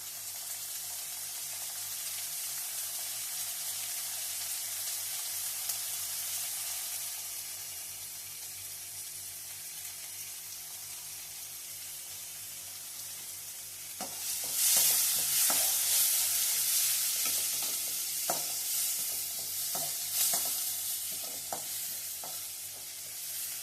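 Onions sauté in a pan with a constant sizzle under a low steady hum, then a spoon stirs, scrapes and knocks against the pan in louder bursts near the end, with no voices.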